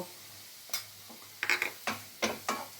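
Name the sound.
stirring flour frying in a pan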